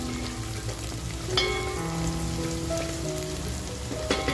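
Mutton fat frying with onions in a pan for a spicy village-style mutton curry: a steady, even sizzle with occasional small pops, and no voices.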